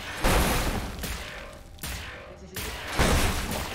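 Bursts of gunfire in the video game Wolfenstein: The New Order, loud rattling volleys separated by brief lulls, with faint mechanical clatter between them.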